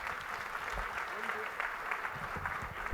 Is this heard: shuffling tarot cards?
no